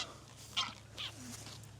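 A few geese honk outdoors, short nasal calls in a quick loose sequence over about two seconds, fairly close over a faint steady hum.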